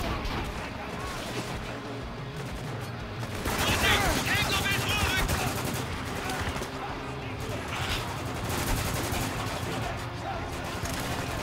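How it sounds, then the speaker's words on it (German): Sustained automatic gunfire from a machine gun in the war shooter Spec Ops: The Line, dense and continuous with heavier bursts swelling midway and near the end, layered with other battlefield shots. "Maschinengewehr her und Feuer."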